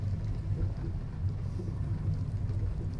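Rain and low rolling thunder in Euro Truck Simulator 2 on a wet dirt mine road near Kirkenes, a steady muffled wash of downpour throughout, with no voices.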